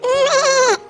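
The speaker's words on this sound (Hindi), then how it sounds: "मुझे बकरी ने जगाया" A single clear, close goat bleat, a wavering nasal cry lasting under a second, loud and alone, sung within a children's nursery rhyme.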